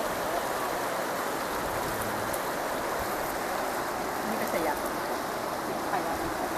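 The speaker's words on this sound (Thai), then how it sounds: "บรรยากาศใกล้กับ แม่น้ำแตงแบบนี้นะครับ" Steady broadband rush of the Taeng river flowing nearby, a continuous even wash of water with no breaks and no voices.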